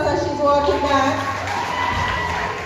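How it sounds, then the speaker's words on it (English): A school audience at a high school career day applauds and cheers for a student walking back from the stage, a short burst of clapping and voices mixed with a presenter talking. "Give her a round of applause as she's walking back"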